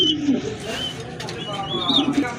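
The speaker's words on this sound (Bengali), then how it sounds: "আর এখানে কিন্তু আরেক জোড়া কবুতর দেখতে পাচ্ছেন" Pigeons coo in low, soft repeated bursts at a Bangladeshi pigeon market stall, with chirps and other bird calls close by and a voice talking over them.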